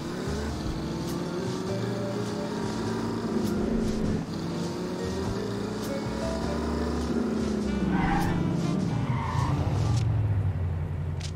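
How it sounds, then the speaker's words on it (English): Car tires screech and skid in The Saboteur, a loud, sustained squeal that rises and falls with engine noise throughout. "there was that tire screech, which was very reminiscent of Mercenaries"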